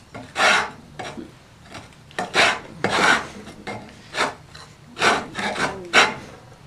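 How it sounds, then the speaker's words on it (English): A big rusted rasp files with irregular rough strokes, about a dozen rasping passes of varying length, close and fairly loud, no voices. "So here is the bigger rusted rasp."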